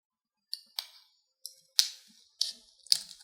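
Scissors snipping 35mm film leader while loading a developing reel, six sharp crisp cuts in uneven pairs, close and clear against near silence.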